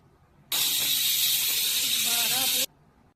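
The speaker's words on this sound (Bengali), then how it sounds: "এই তো মাটন হয়েও গেছিল, টকবক করে ফুটছে" Mutton curry with potatoes boiling in a home kitchen gives a loud, steady steam-like hiss that starts abruptly, holds for about two seconds, then cuts off.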